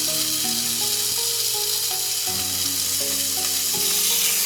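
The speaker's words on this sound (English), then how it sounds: "So what we're going to do now is brown it off and get it nice and crispy." Cooked pork browning in a hot pan, a loud, even sizzle of fat spitting close up with faint tonal hums underneath, continuous for several seconds without any voices.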